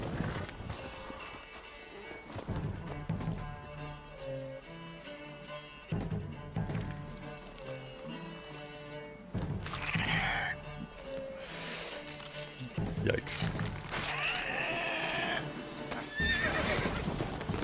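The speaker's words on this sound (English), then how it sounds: "I don't think the horse is gonna make it." Horse in The Witcher 3 video game, with rhythmic hoof clip-clops throughout and loud whinnying neighs in the later half, layered over game music and voices.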